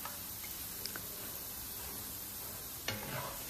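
Food fries in a pan as part of making a beet salad, a steady low sizzle with occasional stirring scrapes and clicks, quiet and close, with no one talking.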